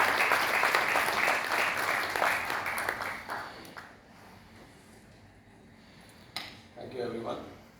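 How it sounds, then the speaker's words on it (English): Audience applause at a civil aviation summit rises loud and dense for several seconds, then fades out, followed by faint room noise and a few scattered claps or clinks. "Can we extend a very warm round of applause?"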